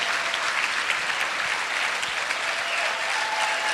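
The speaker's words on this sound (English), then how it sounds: "Let's give him a tremendous round of applause" A crowd claps steadily and warmly, dense applause filling the space without pause.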